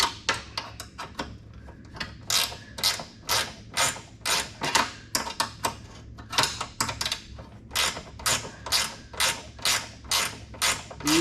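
Ratchet straps on a Jeep CJ-7 fuel tank click in quick bursts of ratcheting, each pull giving a rapid run of sharp mechanical clicks, close and clear with short pauses between strokes.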